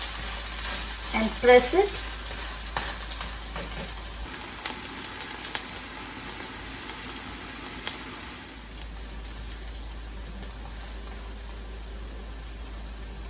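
Adai batter crêpe frying on a hot pan, a steady close sizzle throughout with scraping as it is pressed and flipped, and a brief spoken remark over it.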